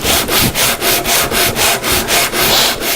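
Steady back-and-forth sanding of a guitar carve top with a 100 grit sandpaper block, roughly a dozen even rhythmic strokes, close and loud with no talking.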